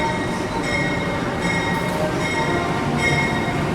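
A CC203 locomotive hauls the Serayu passenger train on the Purwokerto–Bandung southern line, its wheels squealing steadily over a continuous loud rumble of rolling railcars, close and sustained throughout with no voices.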